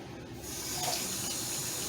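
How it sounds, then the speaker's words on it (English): Water pours from a kitchen tap in a steady, close hiss that starts and then runs continuously at even strength, as warm water is run for stromboli dough. "So I'm going to go ahead and turn the water on there."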